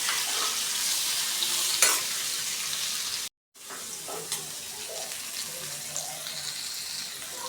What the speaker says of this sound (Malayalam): നല്ലെണ്ണ ഒഴിച്ച് കൊടുത്തതിന് ശേഷം ഒന്ന് വഴറ്റിയെടുക്കണം ചാമ്പൊക്കെ ഇട്ട്